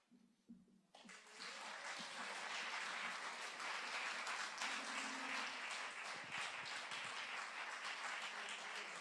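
Applause from a live poetry event audience starts suddenly after a short quiet moment. Dense clapping then continues loud and steady as a wash of many hands with no talking.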